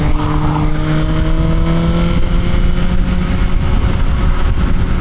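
A Suzuki GSX-R1000 sport bike on Bridgestone RS11 tyres is ridden with a loud, steady engine drone from close range, holding a sustained pitch with wind noise around it.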